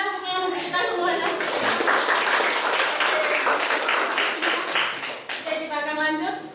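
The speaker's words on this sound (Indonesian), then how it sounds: "tepuk tangan untuk kita semuanya" Classroom group applause at a senior high school, dense clapping sustained for about six seconds, close and lively, with children's voices mixed in at the start and end.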